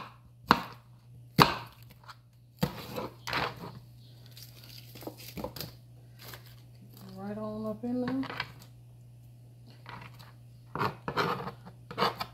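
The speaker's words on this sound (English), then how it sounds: "I'm gonna just cut up the rest of this onion." An onion chopped on a board, sharp knife thwacks spaced irregularly, near and fairly loud, with a steady hum underneath and a short stretch of voice partway through.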